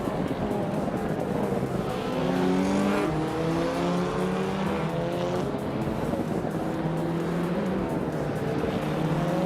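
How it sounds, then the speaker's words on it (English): A 2007 BMW 320i racing in a racing video game, its engine droning and rising through gears with wavering pitch sweeps, steady and close with tire noise underneath. "Anarchisix is driving a BMW 320i from 2007."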